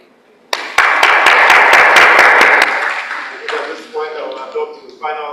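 A short burst of applause from a small crowd for a panel at a climate finance discussion swells suddenly, fades after a couple of seconds, and talking follows.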